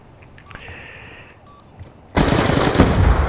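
Rapid automatic gunfire erupts loudly in a Call of Duty match, after a quieter stretch of faint electronic beeps and game sounds, with the burst running to the end.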